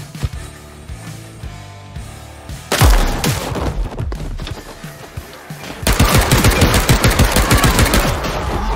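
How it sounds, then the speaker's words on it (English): Rapid pistol gunfire in the video game Paint the Town Red: sparse shots at first, then dense bursts of sharp, booming reports that build into near-continuous loud firing, with no speech. "they added a pistol"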